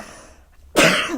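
A single loud, sudden sneeze bursts out after a moment of near silence, sharp and close.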